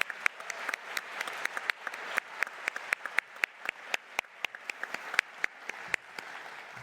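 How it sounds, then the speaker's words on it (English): A small audience at a conference closing ceremony applauds the top five poster presenters, with distinct individual claps ringing out in a loose, steady rhythm at moderate volume. "can we give a round of applause to these top 5?"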